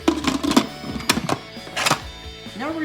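Instant Pot buttons are pressed to set pressure cooking, giving several sharp plastic clicks and beeps spaced irregularly, close and fairly loud with brief pauses between them.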